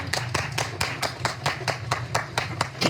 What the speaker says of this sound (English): Did you see how they applauded?